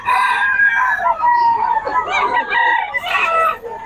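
A Boston gamefowl rooster crows loudly and close, a full drawn-out crow followed by clucking, with almost no talk over it.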